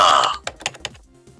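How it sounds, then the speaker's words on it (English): A few quick, clicky keystrokes on a computer keyboard, short taps spaced unevenly after a louder opening burst, close and dry with nothing else over them. "You hear some typing."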